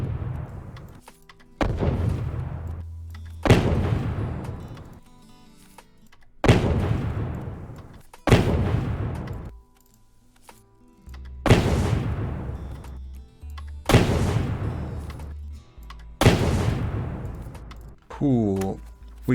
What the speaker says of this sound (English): we have this initial explosion, which I really like